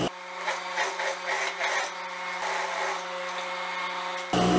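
A sewing machine runs a topstitch seam along the inner facing of a skirt, a continuous close mechanical whir with a rapid stitching rattle that holds steady before shifting abruptly near the end.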